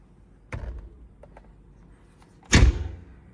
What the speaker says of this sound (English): Shut the old door.